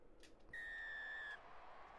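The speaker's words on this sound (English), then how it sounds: "The whistle blows, and here's the kickoff." A referee's whistle blows once for kickoff in a football video game: a single clear, sustained blast of about a second that stands out above faint background noise.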